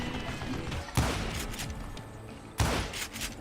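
Two sharp, booming gunshots from the Western shooter game Call of Juarez Gunslinger ring out about a second and a half apart over a steady background of game ambience.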